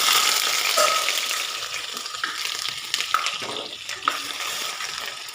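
Steady sizzling of ginger and garlic frying in coconut oil after mustard and fenugreek seeds pop, with a few clinks and stirring scrapes rising above the crackle, close up and fairly loud.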